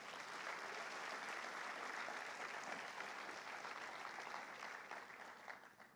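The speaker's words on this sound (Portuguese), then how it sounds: "Aplauda o Senhor Jesus." A church congregation breaks into sustained applause, a dense wash of many hands clapping evenly for several seconds before tapering off slightly at the end, with no speech over it.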